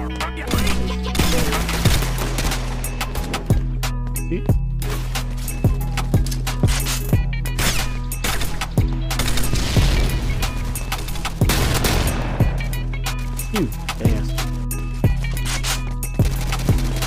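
Rapid FAMAS rifle fire in the blocky shooter Pixel Strike 3D, loud and close, with repeated sharp shots in bursts throughout alongside game effects and background music.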